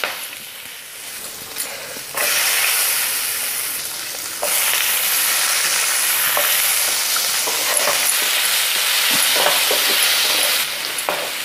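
Onions sizzle in hot oil with whole garam masala, quieter at first, then a loud, continuous close-up hiss from about two seconds on, broken by occasional stirring scrapes.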